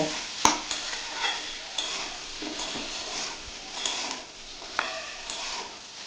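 Raw banana frying with turmeric and salt in a pan, giving a steady close sizzle broken by several sharp clinks and scrapes of a spatula stirring against the metal.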